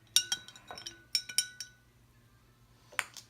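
A metal spoon stirring water tinted with food colouring in a glass, with several bright close clinks against the glass in quick clusters, then a pause and a final clink.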